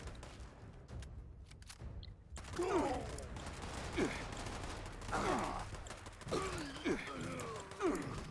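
Automatic rifle fire in Fallout 76 crackles in repeated bursts and scattered shots over a background of game noise and mechanical clatter, moderately loud and uneven in rhythm.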